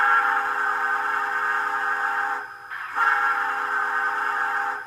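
A DCC sound-equipped S gauge Southern Pacific cab forward steam locomotive model sounds a long steady steam whistle, breaking off briefly near the middle and then resuming, loud and close with no talking.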